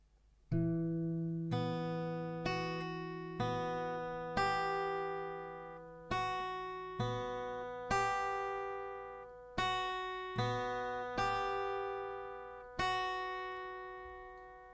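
Acoustic guitar plays a slow, picked minor-key pattern, each plucked note ringing out and decaying before the next, clear and close.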